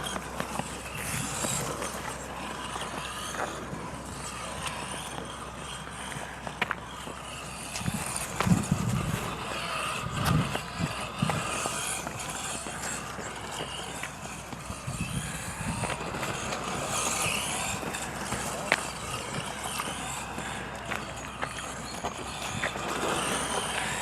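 A Tamiya TT-02 rear-wheel-drive rally-converted RC car drives outdoors, heard as a faint, uneven electric motor whir with scattered tire and gravel clatter, fairly distant and low in level.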